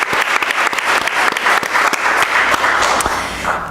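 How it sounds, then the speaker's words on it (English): Audience applause, a dense burst of many hands clapping together, loud and sustained for several seconds with no talking. "I'd also like to ask for a special round of applause for her as well."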